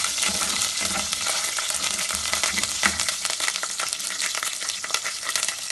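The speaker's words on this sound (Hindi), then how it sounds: "फिर मैं इसमें मसाला डालता हूँ।" Spices tipped into a hot pan with poppy seeds and ginger for a curry, giving a steady close sizzle with stirring scrapes throughout, no voices.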